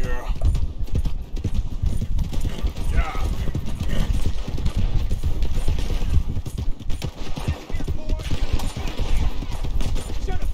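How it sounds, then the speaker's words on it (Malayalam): Horse hooves clip-clop in the open-world game Red Dead Redemption 2, with dense gunfire bursts and crackling shots layered into a busy, loud mix that runs steadily throughout, under a voice talking. "ഭയങ്കര വെടിവെപ്പ് നടക്കുന്നുണ്ട് അവിടെ."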